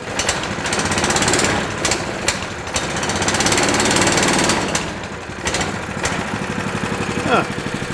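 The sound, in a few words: old tractor engine starting up and running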